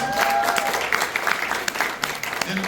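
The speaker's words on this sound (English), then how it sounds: "Give her another round of applause." A burst of clapping from a crowd, steady and fairly loud, fading slightly toward the end.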